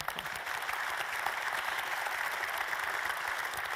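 Continuous audience applause at an evening investment-savings event in a large hall, dense and steady, fairly distant and moderately loud throughout with no voices over it.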